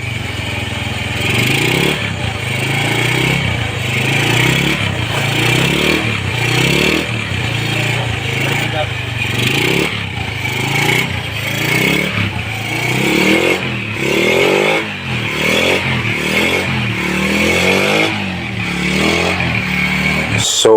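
A motorcycle engine idles steadily and close with a rough, clattering beat while its crankcase breather smokes heavily, running continuously without talk.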